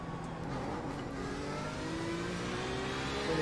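A Porsche RSR racing car engine in the iRacing video game drones steadily and close, with a continuous revving whir that swells slightly toward the end, with no talking over it.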